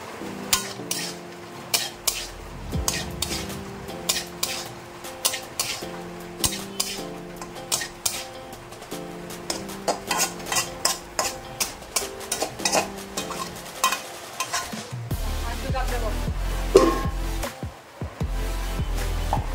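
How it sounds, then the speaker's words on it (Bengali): A spoon stirs meat and yogurt in a cooking pot, giving repeated clinks and scrapes against the metal in an uneven rhythm over a faint hiss, with a deeper rumble near the end. "অল্প করে আমি দই দিয়ে দিচ্ছি মাংসটা, মাংস অল্প, দইটা অল্প করে দিচ্ছি"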